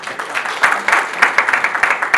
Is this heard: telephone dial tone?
no